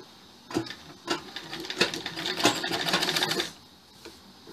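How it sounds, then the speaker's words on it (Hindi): A sewing machine stitches a fabric strip onto a blouse, its needle running in a short burst of rapid, close mechanical clatter that stops and leaves near silence. "इसको वही आधा आधा इंच पे सिलना है।"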